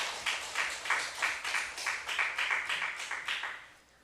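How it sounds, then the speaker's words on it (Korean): A church congregation at a revival service claps in unison, giving about a dozen steady rhythmic claps. The clapping sounds fairly full and then fades at the end. "하나님께 영광의 박수 돌리겠습니다"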